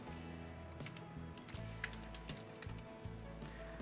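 Quick bursts of computer keyboard typing while code is entered, with crisp clustered keystrokes and brief pauses, close up and fairly quiet over a low steady hum.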